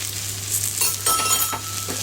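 White sugar sizzles in a hot pan with butter beans for a Greek gigantes dish, a close, steady frying hiss with faint stirring scrapes and a low background hum.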